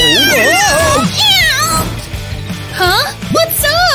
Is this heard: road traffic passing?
no